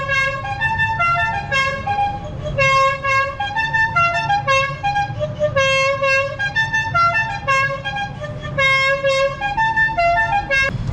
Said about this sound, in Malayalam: നമ്മുടെ ബേബ്സിന്റെ ഹോൺ ഉണ്ടല്ലോ